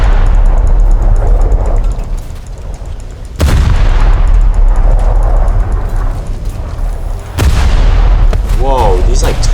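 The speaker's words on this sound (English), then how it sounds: "these like 12-inch guns are penetrating me right now" Heavy 12-inch naval guns firing in the War Thunder naval battle game: a continuous loud rumbling barrage with two sharp, powerful booms standing out, each followed by rolling low-end thunder.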